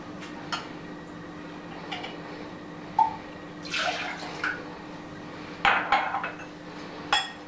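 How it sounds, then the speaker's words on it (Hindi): Water poured into rice flour in a vessel for rice papad batter, heard as brief splashy pours and light clinks of utensils against the container, scattered across a quiet kitchen background. "जितना चावल का आटा है उससे दो गुना हम इसमें पानी डालेंगे।"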